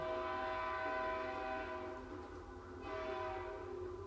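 A train passes in the distance with a sustained, droning horn blast and a low rumble, steady and fairly faint throughout, swelling slightly again near the end.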